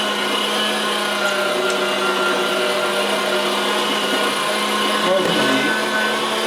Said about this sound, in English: partially frozen meat will actually go through the grinder better anyway